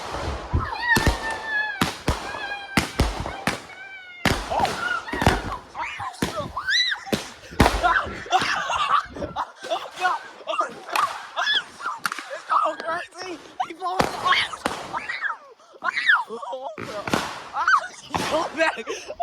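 Fourth of July fireworks and firecrackers go off outdoors in sharp, irregular bursts of loud pops and bangs, some with whistling trails. Excited voices talk and shout between and over the blasts.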